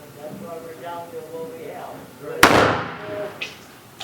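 A single sharp, loud gunshot from hand-reloaded ammunition, fired at a shooting range, cracks out and rings briefly after a stretch of quiet speech.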